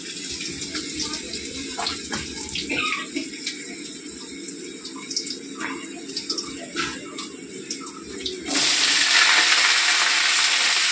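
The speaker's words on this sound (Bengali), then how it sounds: "জল দিলাম" Water poured into a hot pan of oil holding washed potatoes, a busy sizzling crackle that jumps into a loud steady hiss near the end, close and continuous with no talk.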